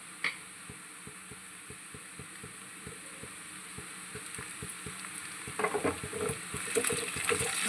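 Ginger garlic paste fries with softened onions in a pan, a low steady sizzle under a quick, regular ticking of stirring, growing louder and busier toward the end as the spoon works harder.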